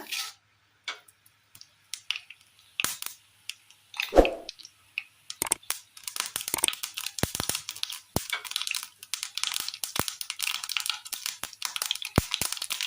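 Mustard seeds splutter in hot oil in a pan, with sharp isolated pops at first that speed up into a dense run of crackles.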